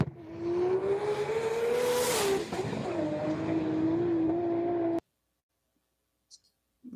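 A car engine revs loudly for about five seconds, its pitch rising and dipping with throttle before cutting off abruptly, followed by near silence and a couple of faint clicks.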